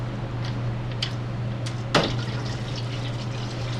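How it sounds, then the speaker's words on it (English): Engine oil draining from a vehicle's drain plug into a drain pan, a steady close liquid trickle over a constant low hum, with a few faint clinks and one brief splash. "Now while the oil is draining out"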